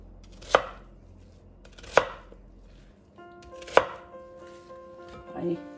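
Onion being chopped on a board while vegetables are prepared for a vegetarian stew of round green beans: three sharp, separate knife strikes spaced well apart, close and clear, with a softer knock near the end.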